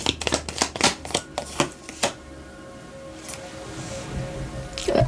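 Tarot cards are shuffled and flicked close by in a run of quick, sharp riffles, then go quiet with light rustling toward the end.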